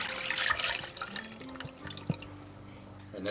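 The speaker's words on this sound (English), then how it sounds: "We're going to go ahead and strain the rest of it into the pan." Braising liquid from beef short ribs poured through a strainer into a pan, a soft liquid trickle with a few drips and light clatter, close and fairly quiet, no talking.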